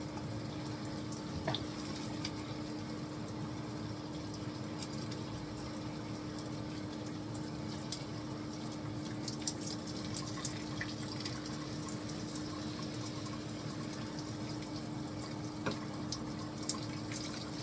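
Shower water runs in a steady, even hiss with faint drips and splashes, continuous and alone with no talking.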